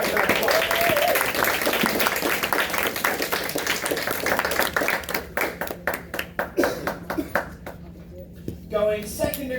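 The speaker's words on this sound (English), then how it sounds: "Let's give our new second 1 star round of applause." An audience gives a round of applause at a ceremony marking new first-star ranks: dense, steady clapping fills the room, then thins into scattered individual claps toward the end.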